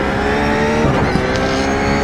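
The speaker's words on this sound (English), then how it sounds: "Car approaching, watch your mirrors." A race car in the iRacing video game: a continuous loud engine drone with a steady revving whine as the car draws near.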